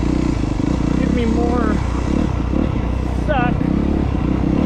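Sur-Ron electric dirt bike ridden off-road, a loud continuous rattling motor and chassis clatter with whining pitch sweeps, a rider speaking briefly over it.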